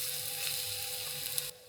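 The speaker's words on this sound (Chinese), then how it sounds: "其他碎料也进锅，炒干炒香。" Chopped shallots and other minced ingredients stir-fry in a hot wok, a close, steady sizzle with faint scraping that cuts off abruptly near the end, with no talking.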